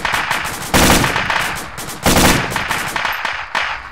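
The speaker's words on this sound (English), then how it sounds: "We're taking fire from the west, Bravo 2." Bursts of machine gun fire in a military tactical shooter game, loud rattling volleys that cut in sharply, with a short pause between two main strings of shots and fainter shots trailing after.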